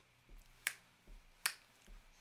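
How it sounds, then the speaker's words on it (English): Fingers snap twice, sharp and close, with soft low thumps between the snaps, heard alone in a quiet room. "You can snap your fingers"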